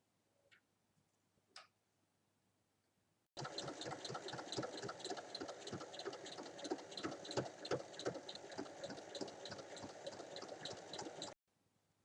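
A sewing machine stitches along the top of a fabric bag in one steady run of rapid needle clatter lasting about eight seconds, preceded by a couple of faint handling clicks and then ending abruptly.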